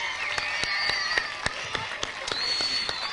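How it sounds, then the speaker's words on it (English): An audience indoors claps for teachers, a thin, fairly even patter of hands that carries on steadily with a few sharper claps standing out. "I want you all to clap your hands for all 30 of the teachers that are here today."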